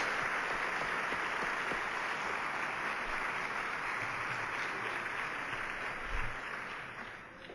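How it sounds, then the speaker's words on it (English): A large audience in a school district auditorium applauds, a dense, even wash of clapping that fills the room and holds steady for several seconds before tapering off near the end. "I think we owe them a second round of applause to school number 33."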